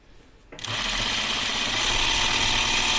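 A sewing machine runs continuously, stitching a seam on an Upton dress after a brief quiet start, with a loud, steady mechanical whir and rapid needle rattle close by.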